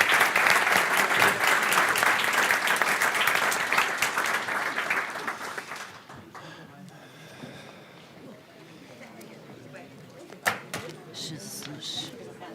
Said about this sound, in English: please do a round of applause for our speakers